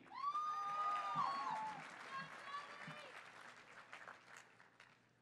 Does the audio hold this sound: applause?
yes